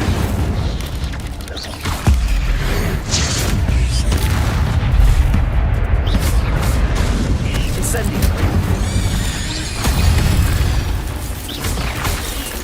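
Incendio fire-spell effects burst in Hogwarts Legacy alongside other casts, producing booming, crackling blasts over a constant rumble. A player speaks spell names aloud throughout.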